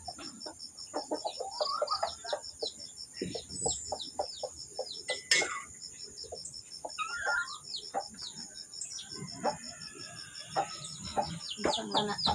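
Chickens being fed, with repeated clucks and short calls overlapping at close range, accompanied by scattered bird chirps and a steady high insect-like drone throughout.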